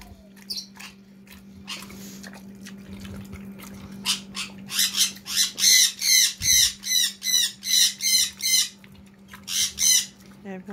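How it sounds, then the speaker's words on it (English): Birds squawk awake in the morning around a household with a mini pig at breakfast, starting as faint scattered calls and building into a loud, rhythmic run of repeated harsh squawks over a steady low hum. "Great, now the birds are gonna get up"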